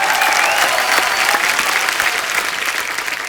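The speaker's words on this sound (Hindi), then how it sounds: "एक बार बरेली की बर्फी की टीम के लिए जोरदार तालियां" Loud studio audience applause on a comedy talk show for a film team, a dense, even roar of clapping throughout that tapers gently toward the end.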